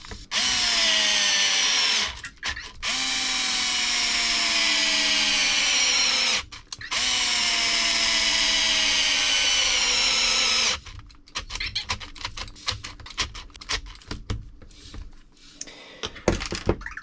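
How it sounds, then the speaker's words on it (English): A power driver whirs in long sustained bursts, roughly three runs of a few seconds each with short pauses, working a factory-stripped screw out on a repair bench; clattering handling and tool noises follow afterward, with no talk. "This driver didn't put that much force on that screw."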